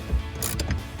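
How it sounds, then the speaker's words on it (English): Ratchet tightening a bolt on a RedRock foot rest kick panel in a Jeep Wrangler JL, with short clicking bursts in a quick uneven run, close and fairly quiet. "we'll just tighten it up with the ratchet here"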